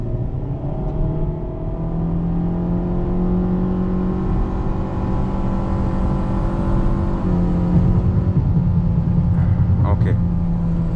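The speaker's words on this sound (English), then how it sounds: "you can hear the engine." A car engine with a CVT drones steadily and climbs gradually in pitch as it accelerates, close and continuous, with a few brief higher tones near the end.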